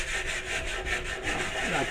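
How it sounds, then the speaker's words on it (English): Dry 100 grit sandpaper rubs back and forth over wood in quick, even strokes, a close, raspy scratching with a steady rhythm. "I'm sanding it here with, I think it's 100 grit, just regular sandpaper, just dry sand"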